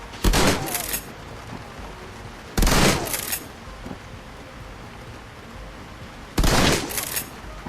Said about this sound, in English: Koshei! Shotgun time.